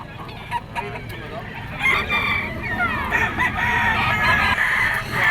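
A two-year-old yellow-legged Sweater gamecock crows loudly and nearby in a busy outdoor market, with clucking fowl and background chatter around it.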